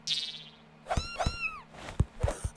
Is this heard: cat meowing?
yes